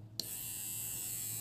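A Zeus Volt Gold electric hair trimmer switches on with a click and then runs with a steady, high-pitched buzzing whir close by, with no voices over it.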